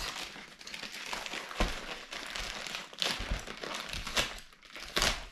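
A SHEIN plastic delivery package being forced open crackles and crinkles in repeated bursts of rustling plastic, close and fairly quiet, with a few sharper tearing snaps.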